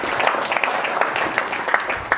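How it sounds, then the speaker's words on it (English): Audience applause at a book launch, a steady wash of clapping hands lasting about two seconds with a few sharper individual claps standing out, fairly close and without talk. "Let's give John a round of applause"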